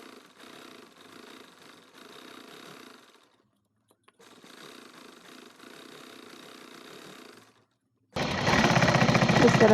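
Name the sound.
sewing machine stitching a petticoat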